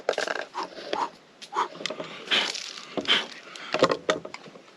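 A dog plays noisily, giving a run of short, scrappy growls, whimpers and yaps mixed with knocks from something it chews or tosses about, close by and uneven in rhythm, with no talk.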